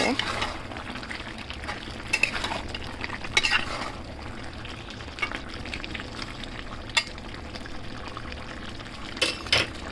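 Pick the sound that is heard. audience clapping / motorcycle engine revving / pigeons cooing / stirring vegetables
stirring vegetables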